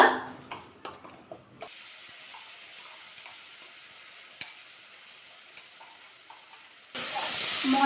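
Ground spice paste hits hot oil in a pan while cooking golda chingri (giant river prawns), with short stirring clatters, a steady low sizzle through the middle, then a sudden louder hiss of frying near the end.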